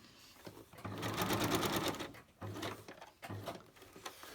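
A sewing machine stitches through paper napkin collage pages in three short runs: one long burst, then two brief ones, each with a rapid mechanical whir and clatter. It is close and clear with no talking.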